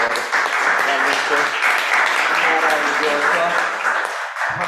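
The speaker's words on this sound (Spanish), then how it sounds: "pedir a todos un gran aplauso para nuestros expositores" Audience applause for the presenters at a tax reform talk, a dense steady wash of clapping running throughout, loud and close, with voices mixed in and the clapping thinning near the end.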